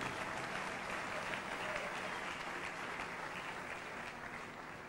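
A church congregation applauds in praise, a dense, steady wash of many hands clapping together at close range that holds evenly throughout.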